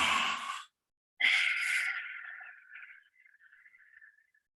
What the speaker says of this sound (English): you're squeezing out every drop of that breath